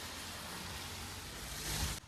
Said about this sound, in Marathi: पाऊस आलाय, खूपच पाऊस आलाय